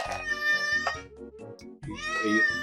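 A game cat in Old School RuneScape meows repeatedly, several clear drawn-out mews close and loud, with no talk over them.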